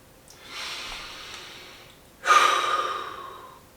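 Deep breathing: two long breaths, a softer inhale followed by a louder, rushing exhale, close and alone with no talk.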